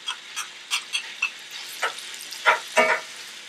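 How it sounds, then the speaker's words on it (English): Cubed venison lands in a skillet already holding bacon and browned kielbasa slices, giving short repeated bursts of sizzling and tossing, close and sharp, with a louder crackle near the end. "And into the skillet with our cubed up venison."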